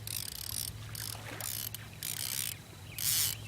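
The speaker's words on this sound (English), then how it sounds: "And you put your bait clicker on, so it sounds like this when the fish are taking it off." A fishing reel's bait clicker ratchets in repeated buzzing bursts as line pulls out while channel catfishing on a river with a strong current, heard close over steady background hiss.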